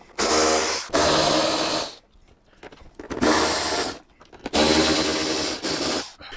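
Power driver backing out the fairing screws on a Harley Street Glide, three loud whirring bursts of about a second each separated by brief quiet pauses, close up.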